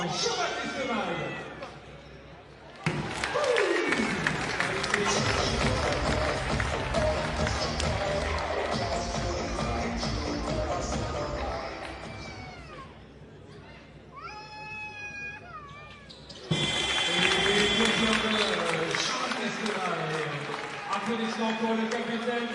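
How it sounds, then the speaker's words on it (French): Arena crowd at a Strasbourg versus Le Portel basketball game applauding and cheering loudly in sustained waves, with music and announcer speech mixed in, a brief lull and then a renewed loud burst of cheering. "Applaudissements et encouragements"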